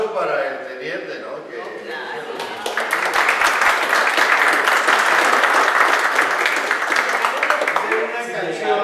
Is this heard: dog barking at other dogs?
no